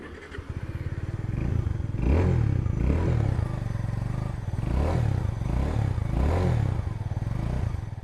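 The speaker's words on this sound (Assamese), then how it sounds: "এতিয়া বাইকখনৰ এক্সজষ্ট নটডাল শুনি আছোঁ, চাউণ্ডটো শুনক" A motorcycle engine idles with a rough, thumping exhaust, blipped a few times into short revs that rise and fall; close and loud.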